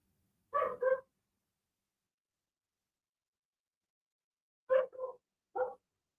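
Dog barking outside, heard as a pair of quick barks followed after a quiet pause by three more, clear and fairly near against silence.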